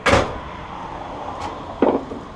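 A workshop drawer slides open with a sharp scrape at the start, followed by a faint rattle and a second short clunk of contents shifting, close and fairly loud.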